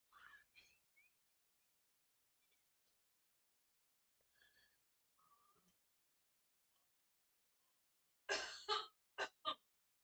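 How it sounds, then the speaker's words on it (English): A woman coughs loudly somewhere behind, with a few harsh bursts close together near the end after long stretches of near silence broken by faint small sounds. "My mom coughs loudly"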